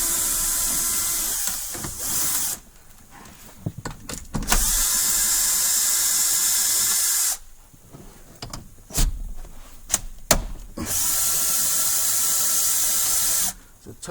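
Bursts from a power impact gun backing out 10 mm bolts on the under-dash airbag of a 2010-2017 Toyota Tundra, several loud sustained whirring runs separated by short pauses and clanks, with a voice talking in between.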